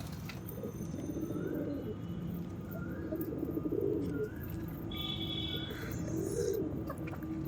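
Pigeons, including a black one, cooing softly around a house roof in repeated low, murmuring phrases under steady outdoor background noise.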